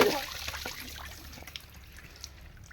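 Spring water trickles and gurgles out of the ground in a forest, a soft, continuous flow heard close by and quiet, fading slightly as it goes.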